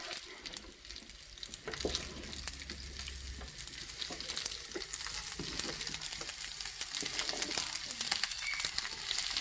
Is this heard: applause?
no